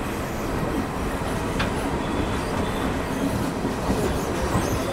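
A moving train on an all-India rail journey near Srinagar in Jammu and Kashmir, heard from inside the carriage as a steady, loud rumble of wheels and rails that runs unbroken throughout, with no talking.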